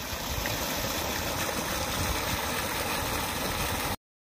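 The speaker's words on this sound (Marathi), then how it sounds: "हा आहे 5 HP चा GKचा सोलर पंप" A 5 HP GK solar water pump runs close by, giving a steady, dense mechanical hum with a wash of flowing water, unbroken for about four seconds before cutting off.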